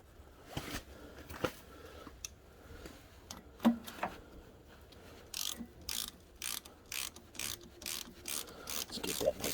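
A ratchet snugs down a bolt during a block heater install on a Kubota BX23S tractor. Steady, close clicking strokes speed up toward the end, after some quieter handling knocks and rubbing.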